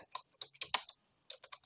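Close, quiet clicking of a computer keyboard as code is typed, with short bursts of keystrokes separated by a brief pause.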